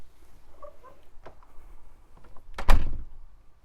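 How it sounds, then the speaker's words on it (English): A door fitted with a Dörrbroms door brake swings shut with no dampening, ending in one loud, close thud after a few faint shuffling knocks. "You can close the door as normal."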